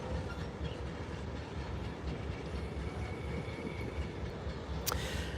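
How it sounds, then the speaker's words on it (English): Norfolk Southern or CSX northbound freight train idling at a rail yard in Chattanooga, Tennessee, a steady low rumble of locomotives and cars with a brief higher metallic squeal near the end. "we're watching our first northbound train getting ready to depart"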